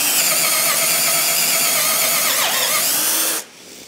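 A Festool Zobo Forstner bit with a Centrotec shank bores a hole, giving a steady, loud, dense whine and grind that runs for over three seconds and then cuts off abruptly as the drill stops.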